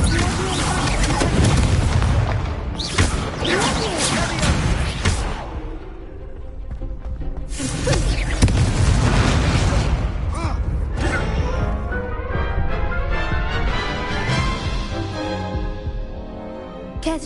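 An Incendio fire spell bursts in the game Hogwarts Legacy amid a dense, booming battle mix of blasts, crashes and score, with repeated heavy impacts over a roaring background.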